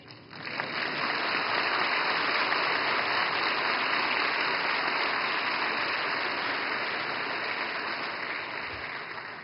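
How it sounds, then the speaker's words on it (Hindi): A large audience at a formal address on economic and credit policy breaks into sustained, dense applause that holds loud and even for several seconds before tapering slightly. "मुझे खुशी है कि सबसे ज्यादा तालियां इस बात पर पड़ी।"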